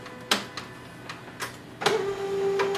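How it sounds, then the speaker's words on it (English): Canon imageCLASS MF650 printer powering on, a few sharp mechanical clicks and clunks followed by a rising whir of internal motors, close up. "Now plug in the power cable and switch on the printer."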